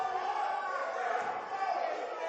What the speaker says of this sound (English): Crowd getting into this one, getting louder than they've been for most of these matches.